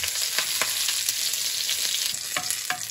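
Mustard seeds and fresh curry leaves fry in a pan of hot oil for lemon rice, giving a steady close sizzle broken by sharp crackles and pops from the spattering seeds.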